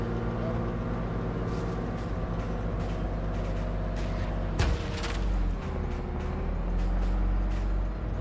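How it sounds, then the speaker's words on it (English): Bradley fighting vehicle drives in the Arma 3 military game, a heavy, loud continuous engine and track rumble with a sharp bang partway through, under radio talk. "It's time for aggressive Bradley driving."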